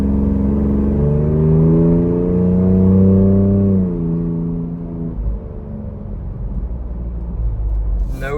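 A Ford Bronco Raptor drives along a road, its engine droning loudly as the revs rise and sweep upward, then easing back into a steady rumbling cruise heard from inside the cabin.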